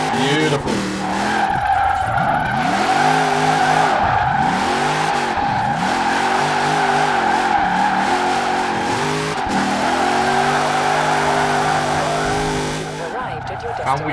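Game car from Forza Horizon 4 drifting through bends, its engine revving up and down in rising and falling sweeps while tires squeal and skid almost continuously, loud and close, with talk over it.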